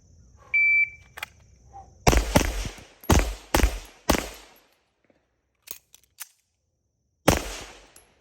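Chambers Custom Night Fighter pistol fires a quick string of five loud, sharp shots, then goes quiet through a reload with faint metallic clicks before one more close, loud shot rings out.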